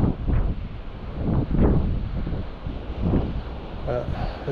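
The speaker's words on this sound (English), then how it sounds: "This is incredibly windy." Strong wind buffets the microphone on a rocky seaside ledge used for land-based fishing, roaring in heavy, low gusts that surge and ease repeatedly, with a faint voice under the noise.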